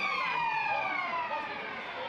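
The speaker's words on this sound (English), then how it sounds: "There's the siren." A wailing siren ends the quarter at a WAFL Colts football match between Claremont and West Perth. It sounds as a loud, sustained tone that slowly falls in pitch and carries over the ground.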